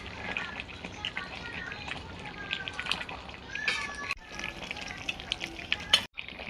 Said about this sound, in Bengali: এবার এতে একটু ধনেপাতা দিয়ে দিচ্ছি, দিয়ে একটু নাড়াচাড়া করে